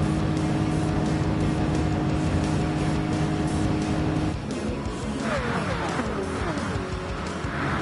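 Race cars in Gran Turismo 7 drive at speeds above 170, their engines holding a loud, steady high-pitched whine. Midway the pitch drops, and the whine then shifts and sweeps as the cars pass and change gears.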